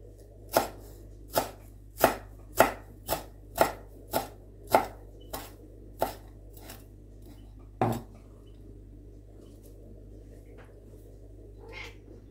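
A knife chops fresh dill on a board in a home kitchen, with about a dozen crisp, evenly spaced strokes close by, then a pause and a few faint scattered sounds afterward.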